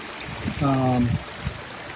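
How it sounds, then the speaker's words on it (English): A backyard pond's waterfall and stream keep up a steady, gentle rush of flowing water, with a brief tonal voice-like sound rising over it partway through. "But waterfall looks much better. Stream looks very nice now."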